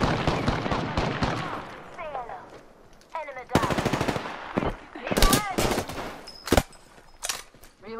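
Rapid automatic gunfire in the shooter game Apex Legends, bursts of sharp cracks with brief pauses and a few single shots, loud and close with talk woven between the volleys.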